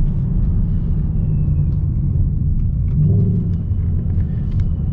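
A boosted 2019 Ford Mustang Bullitt pulls away under acceleration, its engine a steady, deep, loud rumble heard from inside the car, with no talking over it.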